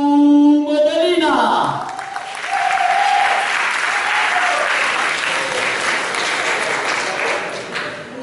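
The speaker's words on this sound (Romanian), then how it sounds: "Vă rugăm să o întâmpinați cu aplauze pe Sodiu" Student theatre show audience in Iași bursts into sustained applause after a brief announcement voice at the start, a dense wash of clapping filling the room for several seconds before tapering slightly.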